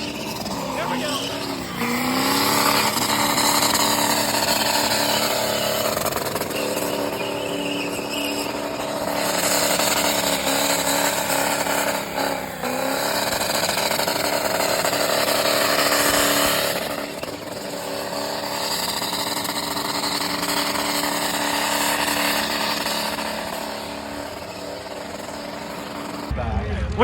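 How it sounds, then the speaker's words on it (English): A vehicle with a 6.0 engine revs and rips loudly in the pit at a car event, its engine note rising and falling repeatedly over a continuous crowd and engine din. "We got another 6-0 ripping in the pit."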